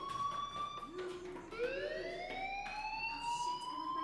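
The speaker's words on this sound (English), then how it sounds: "Hey, do you hear that fire alarm?" A fire alarm wails in the video game Life is Strange, a rising and sustained electronic siren tone that swells and holds steadily, fairly loud and alone with no talking.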